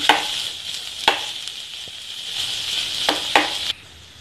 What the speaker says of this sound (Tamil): இப்போ நல்லா அந்த மசாலாவோட ஒரு பெரட்டு பெரட்டி எடுத்துக்கலாம்